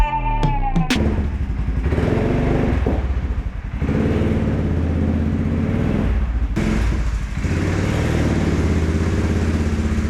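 A Polaris Sportsman ATV, converted with a Ford Raptor Power Wheels body, runs with a steady close engine drone, a few sharp clicks at the start and slight dips in the idle, with no talking.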